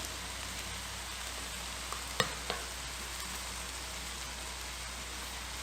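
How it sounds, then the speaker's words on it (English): A pot of tomatoes and vegetables seasoned with cayenne and turmeric, giving a soft, even frying hiss with a couple of faint clicks from stirring near the middle. "Give it a nice stir all around."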